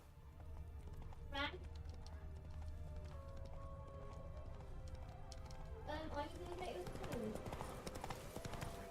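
Roach, the horse in The Witcher 3, gallops with steady rhythmic hoofbeats that stay in the foreground throughout, with game ambience and music underneath and someone talking over the top.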